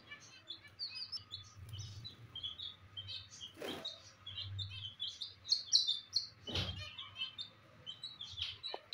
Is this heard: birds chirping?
yes